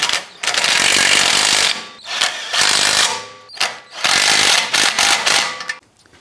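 A ratchet or power tool tightens nuts onto the exhaust manifold studs of a 2004-2008 Acura during a rear manifold and catalytic converter replacement, in three loud, close mechanical bursts with short pauses between them.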